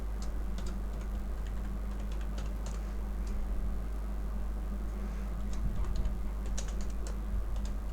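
Soft keystrokes tap on a computer keyboard in scattered light clicks over a steady low electrical hum, faint and close.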